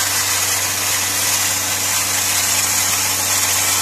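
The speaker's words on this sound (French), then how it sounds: "on est dans la phase d'accélération qui dure quelques minutes, histoire de mettre en pression et d'évacuer toutes les saletés par l'échappement" A Volkswagen Lupo 1.0 three-cylinder petrol engine held at raised revs during a decarbonization cleaning, producing a steady, continuous, close engine drone with no talking.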